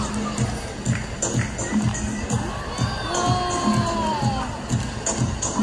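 An audience at the Manila Ocean Park All-Star Bird Show claps and cheers, with steady applause from a crowd and excited children's shouts and whoops mixed in throughout.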